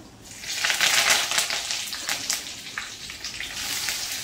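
Asafoetida and curry leaves hitting hot oil with mustard and cumin seeds, a bright crackling sizzle that swells in the first second and then settles into steady spitting and popping close by, with no voices.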